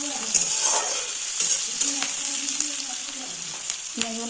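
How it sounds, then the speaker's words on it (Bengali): Onions frying in a pan as the base for chicken kosha made with a kilo of chicken: a steady, fairly close sizzling hiss with occasional scraping stir sounds and utensil knocks throughout. "1 কেজি চিকেন আছে, তো আমি এখানে পেঁয়াজগুলো দিয়ে দিচ্ছি। বানিয়ে নেবো চিকেনের কষা।"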